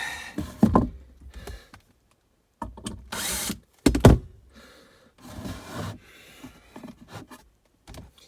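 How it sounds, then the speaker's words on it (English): Power drill driving screws at an angle into 2x4 lumber while decking over a storage loft, heard as several short bursts of motor whine with thumps and pauses between them, close by. "I have to do the screws at a little bit of an angle because this other 2x4 is too close."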